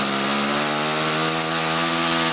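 A petrol line trimmer engine runs steadily, a loud, buzzing two-stroke drone with a high rasping whine held at constant speed throughout, close by and without talking.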